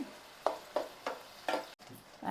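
Tomatoes being stirred in a pan for an old-style fish curry (chepala pulusu), a few rhythmic scraping and sizzling strokes about half a second apart, close and moderate.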